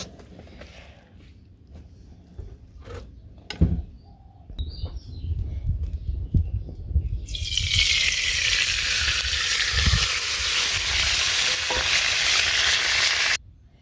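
Bay leaf, dried chilies and cumin dropped into reused oil that held a little water, over a village clay stove, with a few knocks and clatters, then loud sustained hissing and spluttering that stops abruptly, birds chirping faintly.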